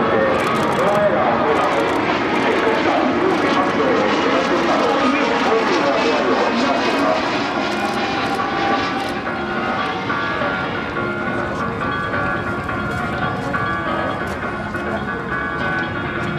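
A rescue helicopter flies nearby during an air base airshow demonstration, its engine and rotors producing a loud, steady droning roar that holds for the whole stretch, while a voice speaks over it in Japanese.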